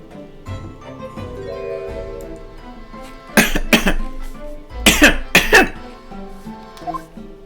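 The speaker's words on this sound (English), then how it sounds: "Are you alright? You seem to be coughing up some..." A character in the Victorian courtroom game The Great Ace Attorney coughs in two harsh, throaty bursts over a steady game music backdrop, with a smaller cough trailing near the end.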